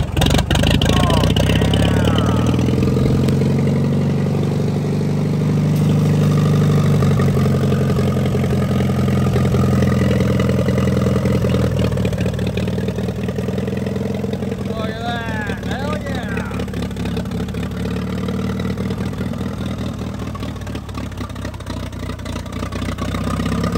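Engine of a 1945 Allis-Chalmers WD tractor running after a fresh carburetor install, a steady mid-pitched chugging idle with slight swells in speed, heard close throughout.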